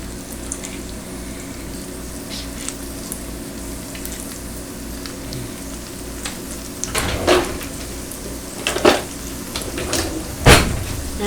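Broccoli florets placed into a hot pan to cook and sear, giving a low steady sizzle with a few sharp clatters and knocks of food and utensils near the end.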